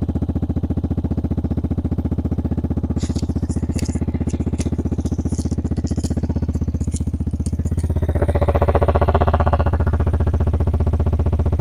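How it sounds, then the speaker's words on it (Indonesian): Vespa Sprint S150 scooter idling up close, a steady rapid putter holding for several seconds before a brief rev swells the sound louder near the end, with no speech. "ini bunyi idle-nya kayak gini nih."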